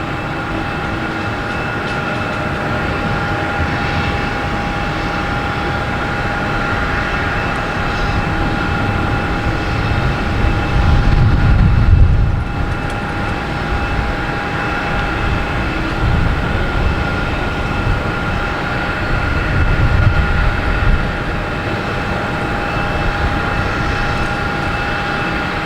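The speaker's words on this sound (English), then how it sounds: "we have British Airways 777 coming in from London Heathrow. Just up to touchdown" A British Airways Boeing 777 arriving from London Heathrow comes in to touchdown, a loud, steady jet roar with a whining engine tone that swells twice as it passes close by.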